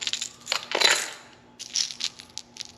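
A Bill Lewis lipless crankbait rattles as its small ball bearings shake inside, giving close, bright bursts of clicking in two quick clusters separated by a short pause.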